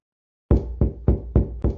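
Hands pounding on a door: five heavy, evenly spaced thuds, loud and close, each with a short boom, and no voices.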